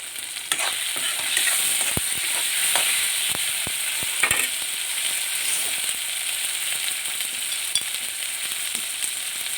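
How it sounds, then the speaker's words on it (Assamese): Chopped tomato fries in a pan for a rajma dish, a steady bright sizzle with scattered sharp clicks of stirring, close and constant. "অকণমান ভাজি থাকি তেনেকৈ অকণমান সিজি নাযায় বিলাহীটো"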